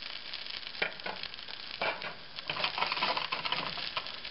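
Bacon or eggs frying in a pan for a John Wayne-style breakfast, a steady close crackling sizzle with brief louder spits and pops throughout, no voices.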